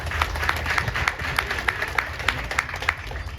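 Audience clapping for community organizations at a Maroon 9 Community Enrichment Organization arts event, steady moderate applause from a modest crowd, even and continuous throughout.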